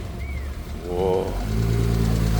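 A Hakosuka Nissan Skyline GTR engine cranks briefly, catches, then settles into a smooth, steady idle close by, with people talking over it.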